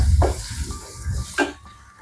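Fennel seeds and garlic fry in a pan for beef sambal, giving a low sizzle broken by two short scraping stirs, close and quiet with no talk.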